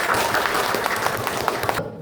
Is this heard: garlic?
no